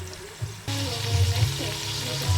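Onions frying in oil for Nigerian fried rice give a soft close sizzle that jumps louder partway through, with faint stirring and clinks.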